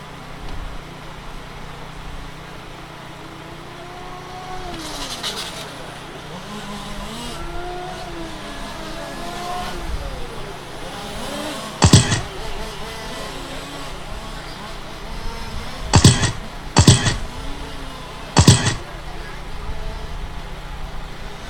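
Race cars lap a track during a charity benefit race, engines droning and passing at a distance with several sharper, louder passes near the end, while an announcer talks over them.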